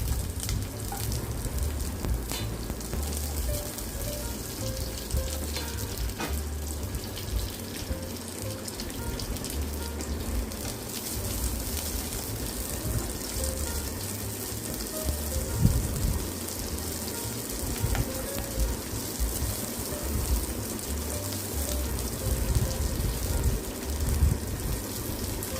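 Onion, peeled garlic and torn curry leaves sauté in a pan for a Tamil sundaikai puli kuzhambu, a soft continuous sizzle and crackle running steadily with small pops, fairly quiet and with no talking.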